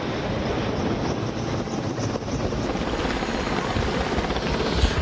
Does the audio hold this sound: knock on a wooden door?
no